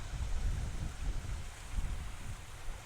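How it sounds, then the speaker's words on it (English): Steady wind gusting across an open microphone outdoors at Tyrrell Park Wetlands in Beaumont, Texas, a low continuous rumble that swells and eases in waves without pause, with no talking. "Still a nice wind out here today."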